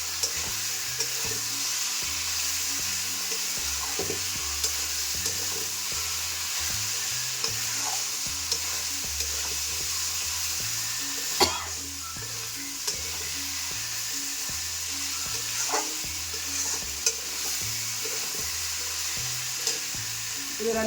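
Spices fried in oil for a Bengali shol (snakehead) fish curry, with water poured in, sizzle steadily up close while a utensil scrapes and stirs in a busy rhythm, with a few sharper clinks; no one speaks.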